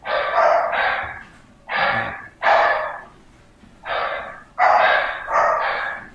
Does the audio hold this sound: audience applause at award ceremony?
no